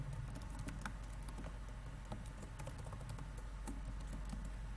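Computer keyboard keys tapped in a steady patter while scripting code in a shell, close and fairly quiet over a constant low hum, with no voices.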